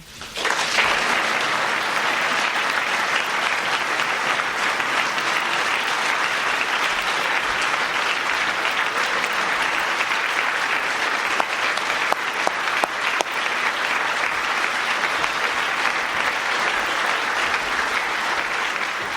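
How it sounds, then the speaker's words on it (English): A large audience applauds steadily after a presidential speech, dense sustained clapping filling the whole stretch at a loud, even level with no speech over it. "they're walking out, people are applauding, etc."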